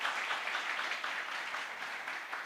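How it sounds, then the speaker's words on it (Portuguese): Applause from an audience at a children's ministry workshop, a steady, dense patter of many hands clapping, fairly quiet and distant, continuing evenly throughout without voices. "Vamos aplaudir o Senhor?"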